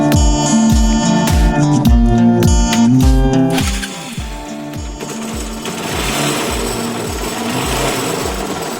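A motorcycle engine runs close by during a ride, its rapid pulsing beat falling and rising repeatedly in the first half before settling into a steadier, wind-washed drone.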